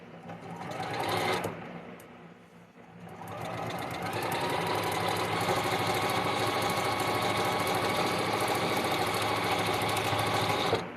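A sewing machine stitches through fabric for a Vortex sew-along project, running in a steady continuous whir for most of the stretch after a brief start and pause, close and loud.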